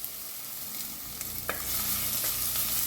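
Crushed garlic and ginger sauté in hot oil for drumstick soup, a brief close sizzle with a couple of light stirring scrapes that swells slightly louder partway through.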